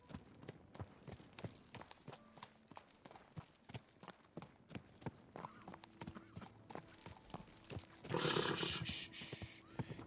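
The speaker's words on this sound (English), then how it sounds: "Easy, good horse." A horse's hooves clip-clop in a steady, close rhythm of sharp knocks that runs throughout, swelling into a louder noisy burst near the end.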